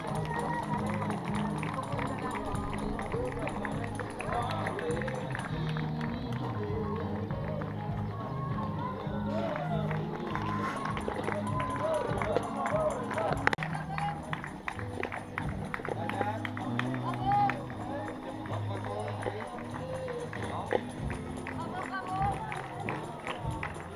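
Spectators line a marathon course near the 30th kilometre, applauding and cheering runners amid steady crowd noise, footsteps and a small band playing, with voices talking throughout at a constant moderate level.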